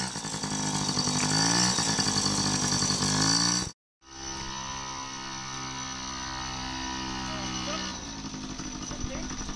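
A Yamaha PW50 small motorcycle engine runs close by with a buzzing, revving drone, cuts out briefly, then resumes at a steadier idle-like hum, with people talking over it.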